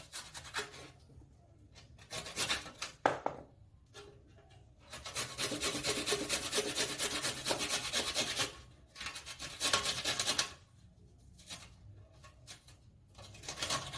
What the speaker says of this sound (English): If you use the grater, you'll be able to get fine cuttings as opposed to cutting them up.